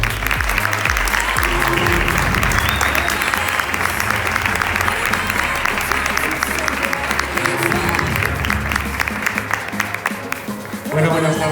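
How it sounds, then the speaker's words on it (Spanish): Sustained applause from an audience at a Valencian Falles event gathering, dense clapping filling the room with some cheering voices mixed in, steady throughout before tapering near the end. "Un fuerte aplauso para él."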